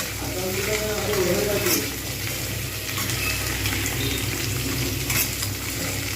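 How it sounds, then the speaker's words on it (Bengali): Potatoes and flat beans fry in a pan with a loud, steady sizzle and occasional stirring scrapes, while a voice briefly speaks near the start. "আলু এবং শিম দেখা যাচ্ছে সুন্দরভাবে ভাজা হয়ে গেছে"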